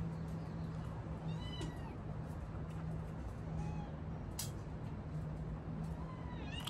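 A cat meows faintly and at a distance several times, with short, drawn-out cries spaced irregularly over a quiet outdoor background that has a low steady hum.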